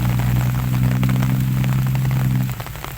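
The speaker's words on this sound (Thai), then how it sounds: "ฝนตกครับ" Heavy rain pours down on an outdoor camp with tents under a large tree, a dense hiss of drops on surfaces under a steady engine-like hum that cuts out near the end.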